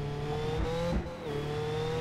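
A Radical race car lapping the Zandvoort circuit, its engine roaring loudly and close, with pitch climbing and then dipping briefly at each quick gear shift.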